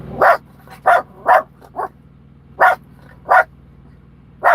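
A dog barks repeatedly, sharp single barks spaced irregularly over a steady low engine hum, fairly close and loud.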